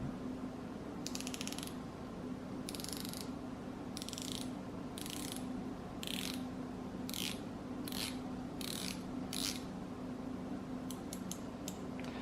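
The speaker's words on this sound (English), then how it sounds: "So let me show you the bezel action." Rotating bezel on an Omega Seamaster Professional 300M dive watch clicking through its ratchet in short bursts of rapid clicks, close and quiet over a steady low background hum, with no talking.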